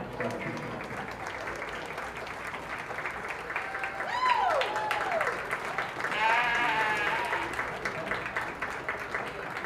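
Audience clapping at a junior fair sheep show, sustained moderate applause in a show ring with sheep bleating loudly nearby in two bursts, and a voice over the crowd.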